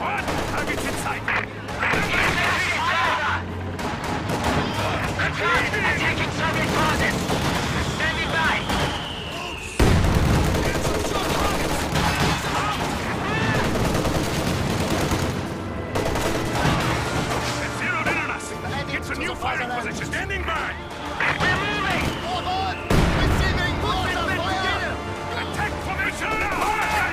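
Battle in the video game Company of Heroes 2: bursts of rifle and machine-gun fire and booming explosions run almost continuously, with in-game soldier voice callouts over the combat.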